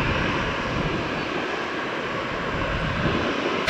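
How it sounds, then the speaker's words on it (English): A Southwest airliner taxiing at Tampa airport gives a steady, loud engine roar and broadband rush that holds constant throughout, with no voices. "the Southwest is taxiing twice as fast."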